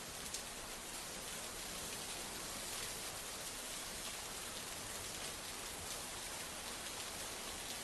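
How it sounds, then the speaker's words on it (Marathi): Heavy monsoon downpour in Lonar taluka, Maharashtra, a dense, steady roar of rain pouring continuously at even loudness, with no voices. "मागील 2 दिवसांपासून लोणार तालुक्यामध्ये मुसळधार पाऊस पडतोय"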